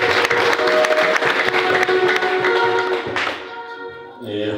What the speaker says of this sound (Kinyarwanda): nubaha amashyi rwose